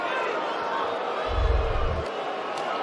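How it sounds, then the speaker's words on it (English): A crowd booing at the UFC 300 fight, a broad sustained roar of many voices swelling to a deeper low surge midway before settling back. "I don't understand the booing"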